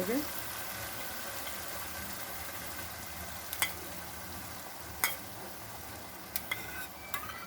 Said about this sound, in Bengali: এখন একটু ভালো করে এটা কষিয়ে নেবো মশলাটাকে মশলাটা ভাজা ভাজা হয়ে গেছে